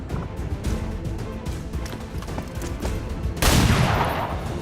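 Pistol shots in XCOM, a run of quick cracking reports over busy game noise, ending in a louder, more sustained burst of gunfire.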